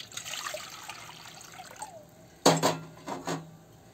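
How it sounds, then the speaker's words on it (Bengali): Water pours into a pot of sambar being made for sambar vada, starting as a soft trickle and ending in a few louder splashing gulps, close by. "এতে আমি আরো জল দেবো।"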